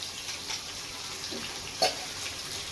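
Four kilograms of sliced onions frying in a large pot for chicken biryani, a soft continuous sizzle and hiss with a couple of brief louder pops, no voices.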